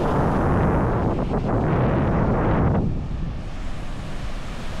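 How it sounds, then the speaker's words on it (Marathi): Sea waves on Agonda beach in Goa crash and wash in a loud, continuous surge, with strong wind buffeting the microphone and roaring over the surf before easing slightly toward the end. "लाटांचा आवाज ऐकू शकता तुम्ही."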